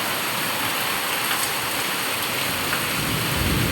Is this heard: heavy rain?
yes